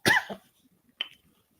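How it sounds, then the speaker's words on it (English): A single close, fairly soft cough, followed by a second brief throat sound a moment later, in a quiet room. "Excuse me, I had to cough."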